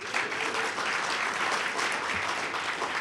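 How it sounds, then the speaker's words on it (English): Steady audience applause in a banquet hall at a multicultural media and correspondents dinner, a dense, even wash of many hands clapping, moderately distant and sustained throughout. "A round of applause for him."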